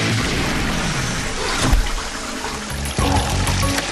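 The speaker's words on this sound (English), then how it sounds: "how will it fare in the bottom of Mayang's toilet with 20 litres of water gushing down upon it?" A toilet flushes about 20 litres of water down onto a clump of absorbent wool, a loud sustained gush and pour with a brief surge midway and a second rush near the end.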